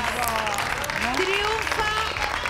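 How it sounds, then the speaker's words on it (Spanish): Studio audience on an Argentine TV talk show gives a standing ovation, steady dense clapping throughout with voices shouting and talking over it. "Aplauso de pie para Tincho, mirá."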